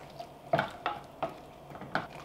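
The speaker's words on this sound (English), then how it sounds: "We're gonna stir this, get it all combined" Diced fire-roasted tomatoes and chickpeas stirred in a pot for an oil-free dish, a spoon scraping in four or five distinct strokes with soft wet squelches, close and moderately quiet, no talking.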